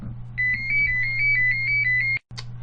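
A phone's ringtone chimes loudly over a low steady hum, a repeating two-note electronic melody that cuts off abruptly, followed by a short noise.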